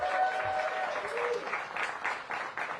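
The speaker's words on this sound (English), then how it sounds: "So get ready to give them a big round of applause" Applause from an audience at a DC Black Restaurant Week launch event with the mayor, a busy patter of clapping that continues under brief voices.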